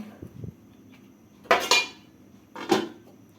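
A metal lid goes onto a pot of light katla fish curry with pumpkin bori, giving two distinct clattering clanks over a quiet kitchen background.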